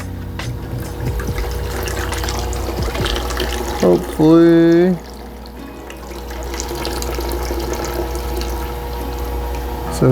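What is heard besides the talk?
water filling shrimp aquarium tank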